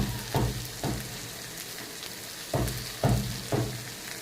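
Potatoes frying in a pan with a ground paste of ginger, poppy seed and mustard, plus turmeric, under a continuous sizzle broken by several loud, rhythmic scraping stirs of a spatula.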